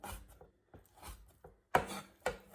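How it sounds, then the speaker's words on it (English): A knife cuts pork into little chunks for wonton filling, giving a few quiet separate cuts against a board, spaced irregularly with short silences between them, and a sharper stroke near the end. "I cut them individually into little chunks."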